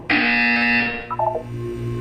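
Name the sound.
buzzer in Portal 2 video game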